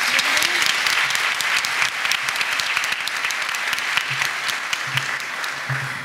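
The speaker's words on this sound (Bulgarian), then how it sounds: "Аплодисменти." Loud, sustained applause from an audience at a real estate awards ceremony, dense clapping close by that continues evenly for several seconds, with a few faint voices underneath.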